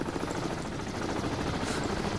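Helicopters in the Cold Waters submarine game sweep past in a loud, steady rotor roar, a continuous dense rumble that rises slightly near the end.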